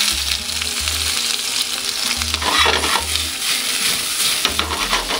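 Vegetables sizzle loudly in very hot olive oil in a pan for a vegetable omelette, with a constant frying hiss broken by repeated rhythmic scrapes and knocks of stirring.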